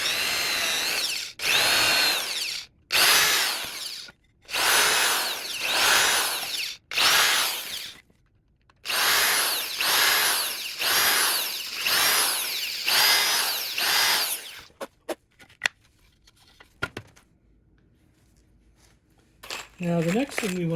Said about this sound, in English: we want a small drill bit. This is going to be the size of our pilot hole.